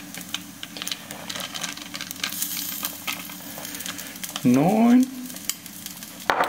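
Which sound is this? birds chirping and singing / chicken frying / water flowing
chicken frying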